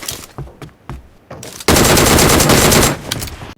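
Automatic fire from an M249 light machine gun in the BGMI battle royale game, a few scattered shots followed by a long loud sustained burst lasting over a second, then trailing off.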